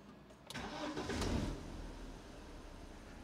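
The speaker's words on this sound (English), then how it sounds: "Okay, we're now ready to start the engine again." A BMW N42/N46 engine with a bad ignition coil cranks briefly and catches, then settles into a steady idle; nearby and moderately loud, no voices.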